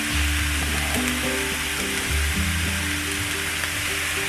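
Loud steady sizzling and frying as coconut aminos hit cauliflower rice in a hot frying pan, a continuous crackling hiss with faint stirring throughout and no talking.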